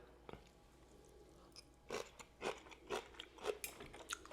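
Crunchy home-fermented sauerkraut being chewed, close and fairly quiet, with a faint initial bite followed by a steady series of crisp crunching chews.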